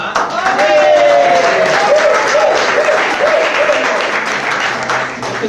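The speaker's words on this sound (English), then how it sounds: "You have to clap." An audience claps loudly and continuously, a dense wash of applause from many people with a voice briefly calling out over it near the start.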